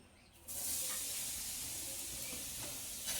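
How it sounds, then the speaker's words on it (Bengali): Coconut goes into a hot kadai for light frying and a steady bright hiss starts suddenly, then holds evenly. "নারকেলটাকে এবার হালকা করে ভেজে নেব"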